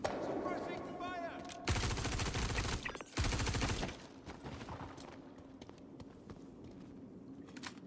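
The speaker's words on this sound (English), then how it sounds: "Suppressing fire!" Bursts of rapid automatic gunfire in the video game Star Citizen, two loud dense volleys of a few seconds each, followed by scattered quieter shots and combat noise, with faint voices in the background.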